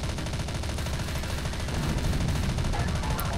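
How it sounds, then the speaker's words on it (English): Rapid automatic gunfire from a video game weapon, a dense, continuous stream of shots running steadily throughout at a fairly loud level with no pauses. "Ooh, rapid fire."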